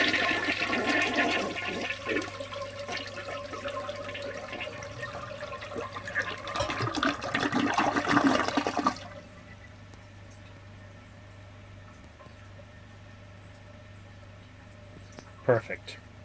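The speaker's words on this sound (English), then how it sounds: "It has the L-Vortex jet and the typical Eljer flush." A 1954 Eljer Coral Blush toilet with an L-Vortex jet flushes in a loud rushing swirl of water for about nine seconds, then drops to a quiet tank refill hiss with a brief knock near the end.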